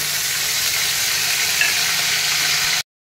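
Ginger garlic paste sizzles and fries in hot oil, a steady close hiss that runs without a break for close to three seconds and then cuts off.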